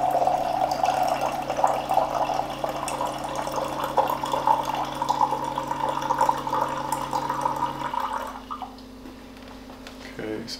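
Room-temperature water pours from a home reverse osmosis filter into a container, a steady close trickle that runs for about eight seconds and then thins out to quiet drips.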